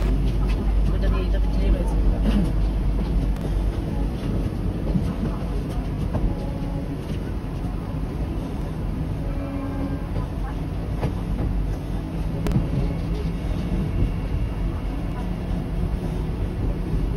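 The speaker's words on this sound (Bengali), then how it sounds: "দশটা 26 বাজে রামপুরহাটে ঢুকলো হাওড়া ভাগলপুর বন্দে ভারত এক্সপ্রেস" Howrah–Bhagalpur Vande Bharat Express rolls into Rampurhat station, a continuous heavy rumble of the train and wheels on track heard from on board or close by, with a voice speaking over part of it.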